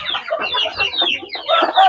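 Chickens cluck steadily in a busy flock on a rice-farming homestead during flooding, with overlapping calls close by and no talking.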